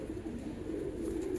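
A pigeon coos in a low, steady, continuous murmur, close by and alone, with no voices.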